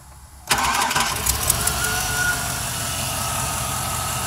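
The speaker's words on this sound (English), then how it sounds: "When I crank this baby up with my 6 starter" A Chevrolet Suburban 2500 engine with an aging starter cranks briefly and catches, then settles into a steady, loud idle close by, with no talking.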